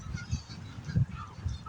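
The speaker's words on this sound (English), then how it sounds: "Because the geese started hollering and then the white birds started hollering." Geese honk repeatedly in a few loud, hoarse calls spaced through the moment, mixed with other bird noise and a faint outdoor background.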